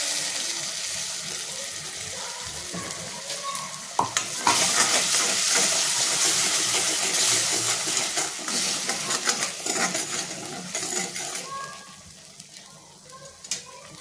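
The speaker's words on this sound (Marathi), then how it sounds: "आता ह्याच्यामध्ये वाटण करून घेतलेले ते वाटण टाकून घ्यायचं आहे" Ground masala paste added to a pan for a shellfish clam curry, frying with a sizzle while a spoon scrapes and stirs in uneven bursts up close, then easing off.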